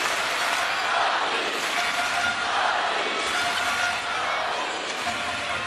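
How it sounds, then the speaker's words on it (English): Spectators at a women's singles table tennis final in Montpellier cheer and roar loudly and continuously, a dense crowd swell that rises and falls slightly throughout. "There's the crowd behind Sabine Winter"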